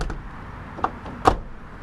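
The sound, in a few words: Ford E350 van door shutting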